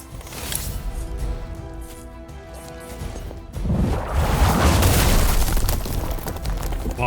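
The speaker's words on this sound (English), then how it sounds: "Bombs." Explosions from bombs in the video game Marvel's Midnight Suns: a loud, dense crashing boom swells midway and rumbles on continuously over a backdrop of game music and effects.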